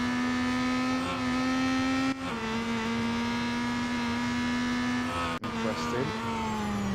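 Race car engine of a Peugeot 9X8 in the Real Racing 3 video game, a steady sustained drone with harmonic whine held across the lap, briefly dipping twice, with possible faint voice underneath.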